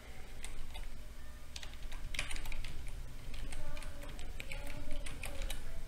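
Keys clatter on a computer keyboard as data is entered into form fields, a quiet, close run of irregular clicks and taps, alone without speech.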